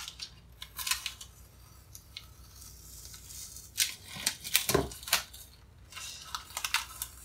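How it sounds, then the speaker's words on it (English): Masking tape pulled and torn during an abstract painting session, with quiet close snips and rips in short irregular bursts and pauses between them, no voices. "Masking tape can be a challenge sometimes."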